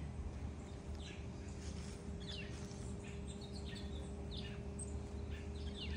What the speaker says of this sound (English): What kind of little birds are those? Chickadees.